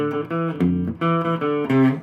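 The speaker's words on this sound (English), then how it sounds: "So I'm gonna play the riff super slow." Electric guitar slowly plays a riff, sustained chords changing about every half second in a steady rhythm, clean and close with no talking.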